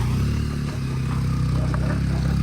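A motorcycle engine labors at close range on a rough mountain road, with a steady low rumble and some rattling clatter, running without a break.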